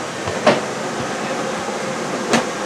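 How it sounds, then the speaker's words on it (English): Air conditioner running inside a 2020 Keystone Premier 29BHPR travel trailer, a steady broadband hum and whoosh filling the interior, with a couple of brief clicks or knocks over the constant drone. "Hear the air conditioner running, that's good."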